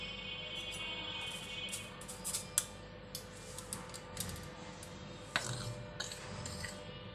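Flour, baking soda and a little salt for an orange cake are sifted together through a sieve: a soft continuous rasping rustle broken by light ticking taps on the rim, close and quiet.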